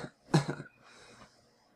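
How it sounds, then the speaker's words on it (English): A single small cough, soft and brief, followed by a faint breathy exhale in a quiet room. "Rainbow let out a small cough."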